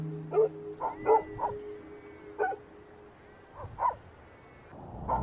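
Several dogs bark at night in snow leopard country, a run of sharp, moderately distant barks in irregular bursts with pauses between, set against a low steady background hum.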